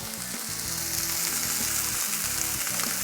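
A sous vide top sirloin steak sears in a hot Field Company cast iron skillet, giving a loud, dense, continuous sizzle, close and steady without pause, with no voices.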